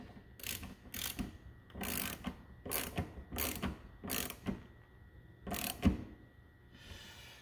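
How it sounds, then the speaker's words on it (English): A hand ratchet clicks through a series of short bursts, about seven quick strokes in a row, as it tightens the nut on a 2007-2014 Honda Fit rear wiper arm, close and fairly quiet with no talking. "And then we'll tighten up the nut."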